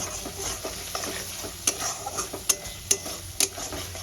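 Coriander powder stir-fried in oil in a pan for vegetable korma, a low sizzle under repeated stirring with a few sharp metallic taps of the spoon against the pan, close and without talk.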